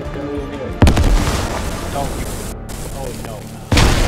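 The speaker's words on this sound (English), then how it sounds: "I don't know how good I am at throwing grenades." Grenades exploding in a multiplayer shooter video game, two sharp, loud booms with rumbling tails, one early and one near the end, while players talk over the action.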